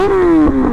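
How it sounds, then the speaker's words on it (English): A Kawasaki ZX-6R sport motorcycle with a Hindle Evo Megaphone exhaust holds a steady, throaty drone that dips slightly in pitch, loud and close, with a brief rumble midway. "What do you guys think of the sound of the bike though?"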